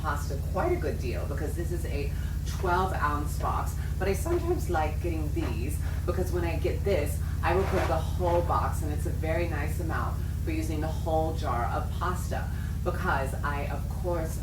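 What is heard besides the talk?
No everyday noises stand out.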